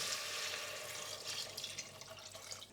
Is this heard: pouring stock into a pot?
yes